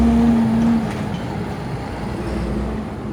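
A tractor engine runs at a steady low rumble in the distance, with a brief low tonal hum at the start before it settles into a constant drone.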